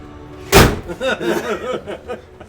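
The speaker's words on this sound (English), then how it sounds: "That's the sound of a big iron door going." A big iron door slams shut in Overwatch, a single loud, close metallic bang followed by a ringing, wobbling resonance that fades over about two seconds.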